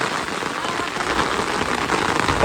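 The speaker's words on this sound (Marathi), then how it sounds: "पाऊस एकदम जोरात आलेला आहे" Heavy rain drums steadily on a surface nearby, a constant dense patter that grows slightly louder toward the end.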